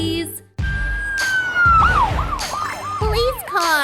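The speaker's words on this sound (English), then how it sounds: "Police car." A police car siren wails loud and close in short rising and falling sweeps, starting after a brief burst of other sound and then turning into quick yelping warbles toward the end.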